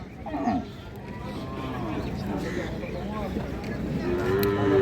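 Friesian crossbreed cattle and calves low and moo nearby amid the murmur of a crowded livestock market in Munshiganj, with voices talking in the background.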